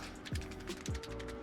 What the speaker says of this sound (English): this is also the worst black pepper grinder maybe of all time